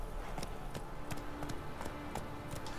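Horse hooves clip-clopping in The Witcher 3 video game, a steady trotting rhythm of soft thuds set against a dense, constant ambient game soundscape, moderately loud with no talk.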